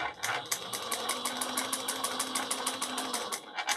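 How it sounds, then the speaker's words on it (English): A sewing machine back stitches a handbag strap seam, its needle hammering in a fast, steady mechanical patter with a motor hum beneath, close and continuous with no talk. "And just go a few stitches back to back stitch."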